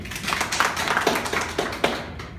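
Audience applause for a speaker at a public gathering, a brief patter of scattered hand claps, moderately loud and fading at the end.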